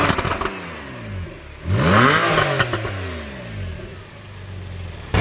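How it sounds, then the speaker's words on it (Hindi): Porsche 911 Carrera S petrol engine on its stock exhaust revs sharply several times, climbing and falling in pitch with a loud rising blip in the middle, close and alone. "साहिब थोड़ा सा इसको पुश करेंगे और देखते हैं कि क्या इसके स्टॉक साउंड आता है।"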